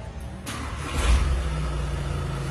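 A 2018 US-market Volkswagen Golf 7 engine turns over and catches, settling into a steady mid-pitched running hum with a low rumble, heard close and alone.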